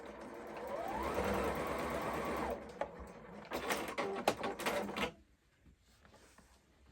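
A sewing machine runs a continuous straight stitch at 2.5 mm length on a French seam, a steady close whirring hum that stops, followed by a few clicks and handling sounds, then near silence.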